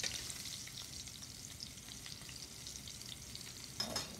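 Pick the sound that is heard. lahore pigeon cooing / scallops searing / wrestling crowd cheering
scallops searing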